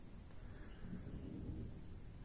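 Distant thunder rumbles low and soft during a night thunderstorm in Ingolstadt, heard from a balcony, with a faint hiss of rain beneath it.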